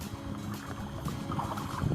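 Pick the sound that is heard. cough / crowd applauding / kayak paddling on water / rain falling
kayak paddling on water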